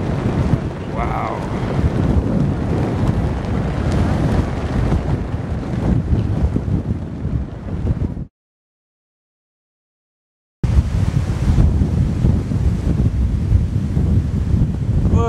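Strong wind buffets the microphone on the deck of a ship in port on a windy day, with waves and water rushing underneath in a loud continuous roar that drops out completely for a couple of seconds.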